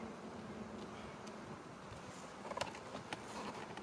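Honey bees around a beehive that is awaiting its queen make a faint, steady buzzing hum, with a few soft ticks and no voices.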